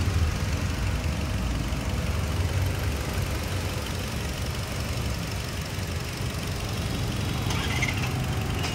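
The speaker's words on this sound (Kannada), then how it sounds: "ಇಂಜಿನ್ ರನ್ನಿಂಗ್ ಅಲ್ಲಿ ಇದೆ, ಸ್ಮೂತ್ ಇದೆ ನೋಡಿ" A 2017 Hyundai Creta 1.6 E+ engine idles smoothly in its engine bay, giving a steady, even low rumble with no speech throughout.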